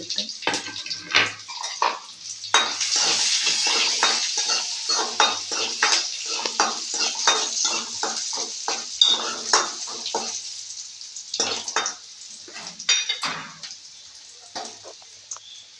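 Onion and two dried red chillies frying in a pan crackle and sizzle under repeated metallic stirring and clinks of a spoon against the pan, busy and close, thinning out toward the end.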